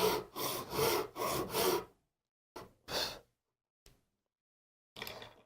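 Close hand sawing through wood for a mitered furniture joint: four quick rasping strokes, a pause, then a few scattered shorter strokes with silences between.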